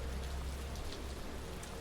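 Steady rainfall in the train simulation game Trainz Simulator 3, a continuous soft patter of raindrops on surfaces with a low rumble underneath, even and unbroken with no talking.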